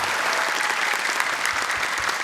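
Studio audience at a televised Quran memorization competition applauds for the jury, a loud, dense, continuous wash of clapping from a large crowd.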